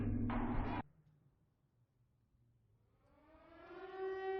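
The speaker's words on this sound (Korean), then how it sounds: "어디선가 들리는 사이렌 소리와 함께 주변의 분위기가 바뀌는데" A civil defense siren from the Silent Hill film slowly rises out of near-silence in an empty, eerie street, swelling in pitch and volume as a distant wail after a short burst of noise.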